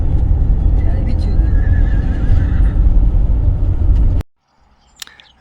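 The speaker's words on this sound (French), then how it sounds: "Encore un cheval." A horse neighs near a road along the Bucovina routes in Romania, heard over a steady rumble of a camper van's engine and road noise that cuts off abruptly, leaving a faint sharp sound afterward.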